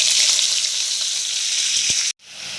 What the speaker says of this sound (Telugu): పదిహేను నిమిషాల పాటు చిక్కడిగాయని ఫ్రై చేసుకోండి